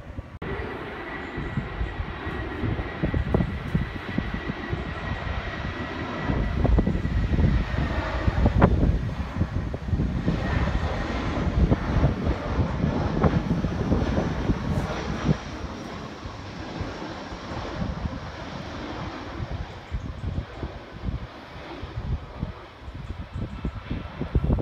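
A steady, broad roar of an airplane passing overhead, loud and rumbling throughout with slow swells in intensity and no voices.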